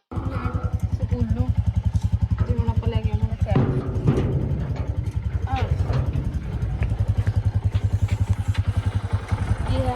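A motorcycle engine runs close by with a steady throbbing putter while people talk over it.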